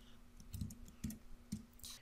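Quiet, close typing on a computer keyboard: a few separate key clicks in an uneven rhythm over faint background hum, no voices.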